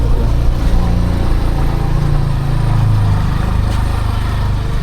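A vehicle engine drones steadily while driving, a constant close, loud hum that rises slightly midway before settling again.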